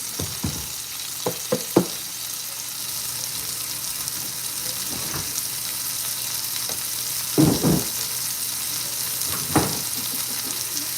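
Butter frying in a hot pan during a home breakfast cook, a steady soft sizzle running throughout with a few clatters and stirring knocks of utensils, no talking.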